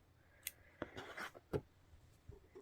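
Scissors cut knitting yarn while a rabbit-ear balaclava is being finished, with a few soft, close snips and small rustles in a quiet room.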